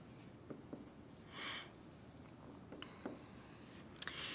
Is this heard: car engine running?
no